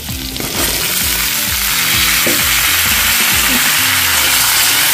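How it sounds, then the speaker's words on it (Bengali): Cut pumpkin pieces hit hot oil and fry in a pan with a loud, steady sizzle. Scraping, clattering stirs sound close by under it. "এবারে এর মধ্যে কেটে রাখা কুমড়োগুলো আমি দিয়ে দিচ্ছি।"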